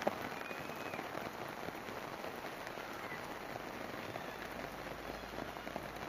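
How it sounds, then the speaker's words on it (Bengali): Light village rain falls in large, heavy drops, making a steady, close, dense patter on surfaces that stays even throughout, with no voices. "খুব বেশি যে বৃষ্টি হচ্ছে তা না, ফোঁটাগুলো বড় বড়।"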